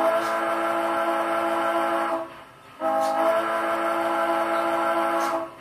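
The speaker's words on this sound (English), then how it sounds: "F2 is a long whistle" Long sustained whistle from an Athearn Genesis 4-6-6-4 Z8 Challenger HO-scale model steam locomotive, a steady chord that dips briefly mid-blast then resumes, sounding close and alone.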